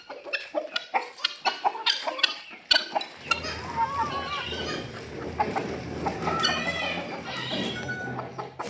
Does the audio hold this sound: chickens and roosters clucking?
yes